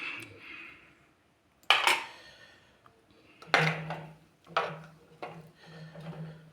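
A spoon stirring sardine peera curry with kanthari chilies in a pot, giving several sharp metallic clanks and scrapes separated by quiet gaps.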